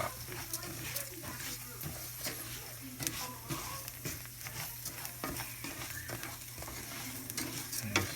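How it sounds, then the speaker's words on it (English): Rice browning in a pan for arroz con pollo gives a faint, steady sizzle with soft scraping stirs, heard under someone talking. "this just takes a few minutes to brown the rice a little bit here"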